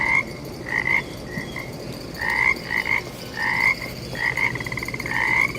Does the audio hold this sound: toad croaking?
yes